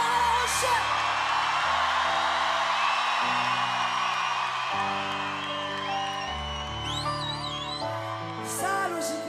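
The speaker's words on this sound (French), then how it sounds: "J'ai besoin des cris de mon public ce soir à La Rochelle." A concert crowd at a Francofolies show in La Rochelle in 2010 whoops and screams loudly over pounding bass-heavy music, building into energetic cheering.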